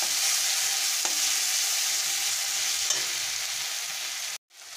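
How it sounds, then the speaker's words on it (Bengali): Spice paste with chilli and cumin powder frying in a pan with a little water for a mutton fat curry, a steady loud sizzle with faint stirring scrapes, cutting out briefly near the end. "জিরে গুঁড়ো 1 চা চামচ দিয়ে মশলাটাকে আমি ভালো করে কষে নেব একটু জল দিয়ে"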